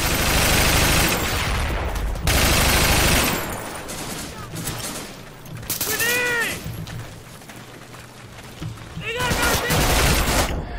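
Insurgency video game firefight with dense, loud bursts of gunfire and a frag grenade blast, several heavy booms and rattling volleys across the clip, broken by brief lulls with faint metallic clinks.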